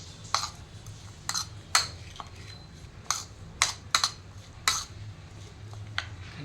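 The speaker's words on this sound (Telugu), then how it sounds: "చిల్లీ, అండ్ లెమన్, ఇవన్నీ వేసుకొని మిక్స్ చేసుకోవాలి." Mashed avocado mixed with chilli and lemon in a bowl, a spoon striking the bowl in a string of light, irregular clicks and taps over a quiet background.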